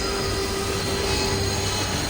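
A train rolls on iron rails in the video game Reverse 1999. It makes a loud, continuous rumbling roar with a steady hum and no voices.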